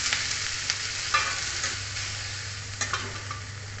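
Onions frying in oil for chicken biryani, a steady close sizzle with soft scrapes and knocks of a spoon stirring the pan, no voices.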